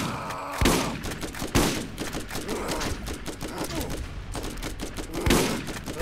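Rapid video-game gunfire from Borderlands, dense bursts of close, loud shots in quick succession with a few heavier blasts throughout.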